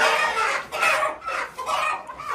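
Hens clucking in a backyard poultry setup, including a young hen laying an egg, a loud, close run of agitated, drawn-out clucks and squawks in rhythmic bursts.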